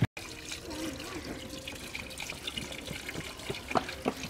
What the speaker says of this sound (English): they were nice enough to let me fill up our bucket